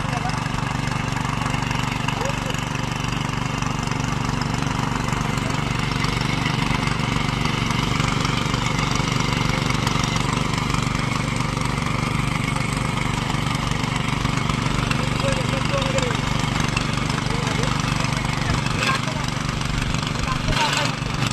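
A farm machine engine runs steadily and loudly throughout, a continuous mid-pitched mechanical drone with no breaks, close by, as it is driven in a village field.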